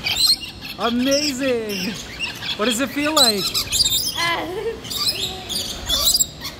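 Red-eyed birds being fed a nectar of wheat flour and water chirp and squawk loudly up close in repeated rising calls, with people talking in between.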